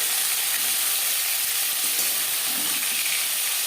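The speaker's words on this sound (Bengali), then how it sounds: "মাছের মাথা একটা সাইড ভাজা হয়ে গেলে অপর সাইডটা উল্টে দেবো" A fish head fries in a pan with a steady, close, even sizzle and hiss, loud and unbroken throughout.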